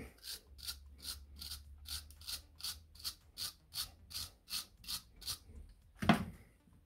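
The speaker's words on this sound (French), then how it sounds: "On va lui mettre un petit coup de brosse métallique." A wire brush scrubs a freshly tapped metal thread in quick, even strokes, a dozen rhythmic rasping scrapes close up, ending with a sharp knock.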